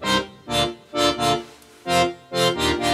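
A single raw main synth layer from a song's chorus stabs out full, bright chords in a bouncy rhythm of short and slightly longer hits, loud and clean with nothing else playing.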